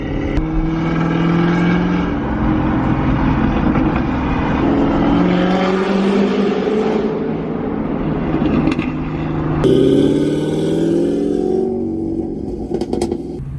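A Corvette C7 fitted with a cowl vented extractor hood pulls hard through rolling acceleration runs, its loud engine rising and surging alongside road noise, with a second strong pull after a brief shift.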